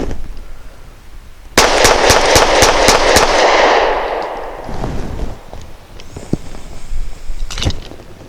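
DB9 Gen 4 pistol emptying a full magazine plus one: a quick burst of about seven loud, close shots in rapid succession, then a ringing tail and scattered clinks and handling noise.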